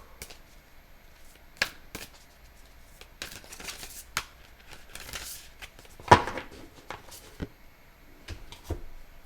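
Osho tarot cards shuffle in soft, scattered riffles and taps, near and fairly quiet, with irregular bursts across several seconds and no talk.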